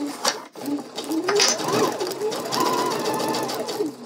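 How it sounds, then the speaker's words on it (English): A sewing machine stitches around a fabric pocket bag with a rapid mechanical whirr, close and continuous, and a short pause early on. "gonna keep stitching around the pocket bag until I hit my little dot there"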